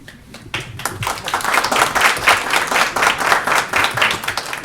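Audience applause greets a speaker on a sustainable industry panel, a dense wash of many hands clapping that starts abruptly after a brief quiet moment and holds steady and loud throughout.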